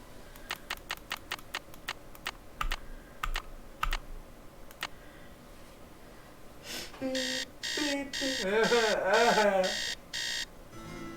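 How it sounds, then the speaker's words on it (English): A Taz cartoon alarm clock sound is played back as a file, starting as faint rapid clicking and then turning into a loud, warbling, repeated electronic ringing pattern over a low background hum. "That's what my Taz alarm clock used to sound like."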